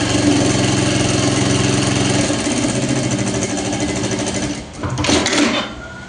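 Sewing machine stitching the side seam of a two-sided bag, running in a fast steady mechanical hum that slows briefly near the end before a short final burst.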